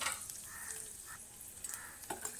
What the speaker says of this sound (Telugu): ఇలా ఇందులో బాగా ఫ్రై చేసుకొని